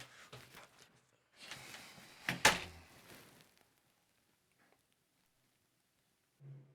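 At the entrance, a door bumps and rattles in a short burst of handling noises ending in a sharper clack, then falls silent, with a low thud at the end.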